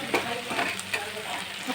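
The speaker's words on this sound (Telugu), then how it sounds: "మొత్తం కలిసేలా కలుపుకోవాలండి." Boiled potatoes being stirred into softened onions in a hot frying pan: a steady close sizzle with scattered scraping and clicking stirring strokes, and no talking.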